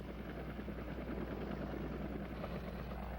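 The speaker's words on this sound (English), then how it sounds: "The FW-61 was a twin-rotor helicopter." Continuous broadband rotor and engine drone of a Focke-Wulf FW-61 twin-rotor helicopter in flight, steady and fairly loud with no pauses or voices.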